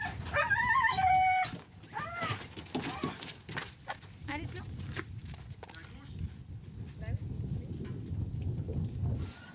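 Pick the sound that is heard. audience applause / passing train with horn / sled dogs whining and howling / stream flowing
sled dogs whining and howling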